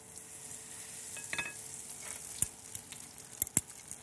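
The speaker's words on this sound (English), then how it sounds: "Don't dip these wooden chopsticks into the hot oil, but just gently drop the eggplant slice in." Eggplant tempura slices fry in a pot of hot oil, a steady soft sizzle with a few sharp pops and crackles rising as pieces drop in, heard close and without talk.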